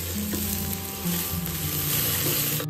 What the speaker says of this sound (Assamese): চাউল আৰু দালিখিনি ইয়াতে ভালদৰে ভাজি লৈছোঁ